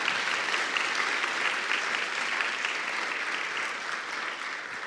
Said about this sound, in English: I think that's worth a big round of applause.